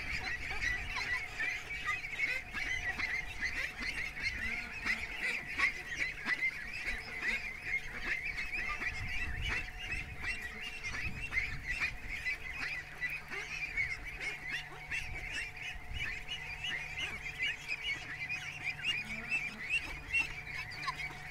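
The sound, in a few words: ducks quacking and honking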